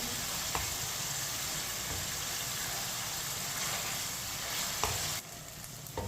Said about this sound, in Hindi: चिकन को मैंने 5 मिनट के लिए पका लिया है, फ्राई कर लिया 5 मिनट के लिए।